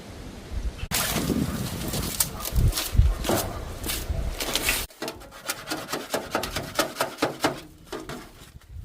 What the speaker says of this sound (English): Time for a chisel.